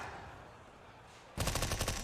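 A sudden rapid burst of submachine gun fire in Counter-Strike during a professional esports match, loud and evenly spaced after a quiet stretch of low background noise.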